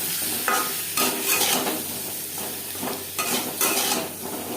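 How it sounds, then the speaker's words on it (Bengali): Potatoes frying in a pan with turmeric and salt, a dense hiss of oil with periodic scraping bursts as they are stirred, close and fairly loud. "লবণ দিয়ে তিন চার মিনিট আলু ভেজে নেব"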